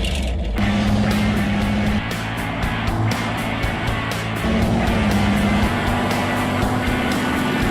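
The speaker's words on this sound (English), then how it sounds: "Thank you, Ron, and here it is, the viewer video of the week. The Rat Rod" A rat rod car's engine runs loud and close with a steady, rumbling drone and a low humming tone, holding nearly constant for several seconds with no voices.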